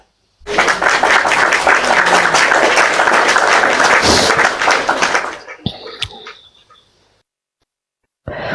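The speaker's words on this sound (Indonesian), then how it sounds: "Tepuk tangan dulu buat Bunda Gembala." An audience bursts into loud, dense applause for about five seconds, then it thins out and fades to silence, with a brief new sound right at the end.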